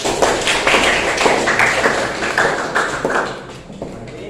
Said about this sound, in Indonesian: Kita kasih aplaus dulu untuk Devi Nurfaliza dan Senario